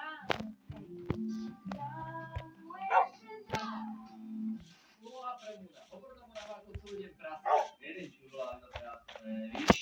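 A dog barks in short, separate yips and bow-wows close by, mixed in with a person talking in Slovak.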